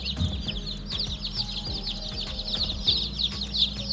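Newly hatched chicks, dry and just taken from an incubator, chirp continuously in a dense chorus of high, rapid peeps, with soft clucky sounds and light handling noise underneath.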